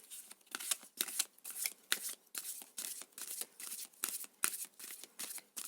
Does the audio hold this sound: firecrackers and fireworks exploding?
no